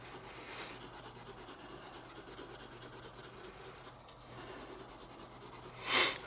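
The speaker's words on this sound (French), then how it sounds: "Même le HB sur ce genre de papier, ça marque déjà pas mal." An HB pencil scratches steadily across drawing paper while a leafless tree is sketched, a soft, continuous rasping close up with one brief louder stroke near the end.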